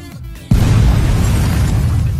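A sudden loud boom hits at about half a second in a movie explosion from the film Scary Movie 5, then a dense roaring rumble sustains to the end.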